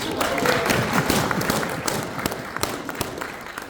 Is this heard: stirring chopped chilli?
no